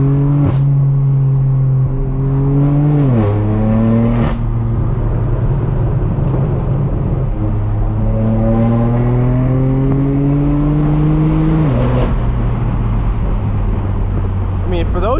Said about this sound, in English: Everything from that turbo spooling up, you hear those whistles from the turbos